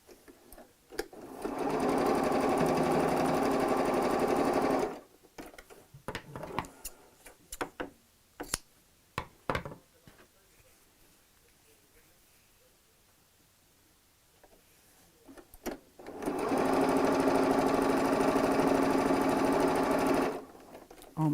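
A sewing machine stitches a scrappy patchwork bag in two loud, steady bursts of whirring, with a quiet stretch of fabric handling and small clicks between them.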